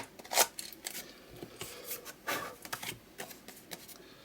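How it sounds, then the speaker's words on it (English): Dry, raspy scuffing of paper edges being roughed up on a dictionary-page print, in short irregular strokes, close and quiet. "I'm only going to scruff up the top and that side there"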